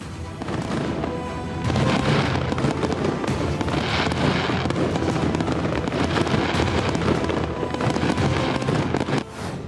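Continuous dense crackling and popping of Diwali firecrackers in Delhi, with booming blasts overlapping throughout, loud and unbroken.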